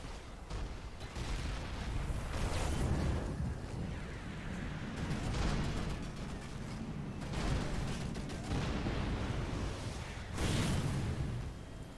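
Missile launches and explosions roll through a Rise of the Reds real-time strategy battle, with sustained loud, dense rumbling blasts that swell repeatedly across the whole stretch.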